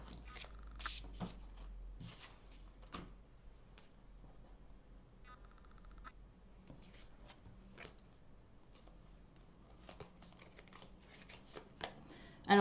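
Soft, close rustles, flicks and taps of tarot cards being shuffled and drawn during a card reading, quiet and intermittent with a few sharper slaps of cards.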